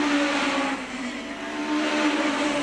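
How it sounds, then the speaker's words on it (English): National Hot Rods race cars circulate at Arlington in 1987, a loud, continuous engine roar with sustained droning pitch and no pause, close and dense without speech. "So then, on we race with the National Hot Rods."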